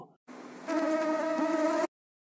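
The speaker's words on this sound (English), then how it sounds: "Mosquito." A mosquito's thin, steady whining buzz, close and continuous for under two seconds, starting softer and then swelling to a stronger, even drone before cutting off.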